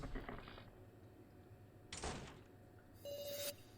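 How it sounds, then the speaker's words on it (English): A door closes in the video game Your Turn To Die with a short broadband whoosh and thud, followed by a brief electronic tone, all over a low game background hum. "Well, the door closed."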